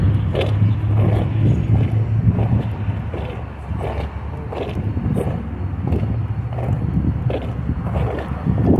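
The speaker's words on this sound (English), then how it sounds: "There's some cars going out." Cars rolling out of the Indianapolis Cruise & Cars show, with a red Morris Minor gasser among them, as a steady outdoor rumble of engines and traffic mixed with wind buffeting the microphone, continuous for the whole stretch.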